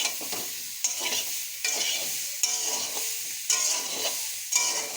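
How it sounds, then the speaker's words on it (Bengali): Ingredients dry-roasted and stirred in a hot pan, a steady close hiss broken by regular spatula scrapes about every second. "আমি 5 মিনিট আমি এরকম শুকনো খোলায় নেড়ে নেব ভালো করে"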